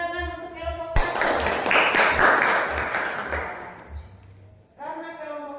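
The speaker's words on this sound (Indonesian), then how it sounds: "Tepuk tangan untuk kelompok 1" A classroom group claps for group 1, a burst of dense applause lasting about four seconds, bracketed by a voice speaking before and after.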